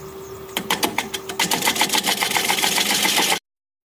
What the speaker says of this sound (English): So I'm going to start with a 1/4-inch bowl gouge